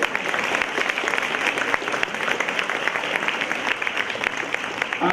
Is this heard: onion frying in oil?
no